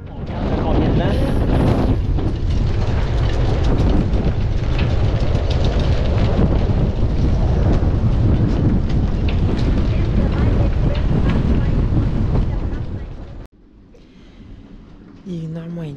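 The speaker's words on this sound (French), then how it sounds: "il y a vraiment beaucoup de vent" Strong wind at a marina at night buffets the microphone in a loud, continuous roar for most of the clip, then drops away abruptly as a voice speaks.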